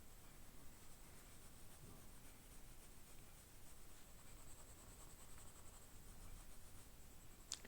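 Colored pencil scratching steadily across paper while tiny trees are drawn with Irojiten green pencils, a soft continuous scratch under a constant hiss, with one sharp tap near the end.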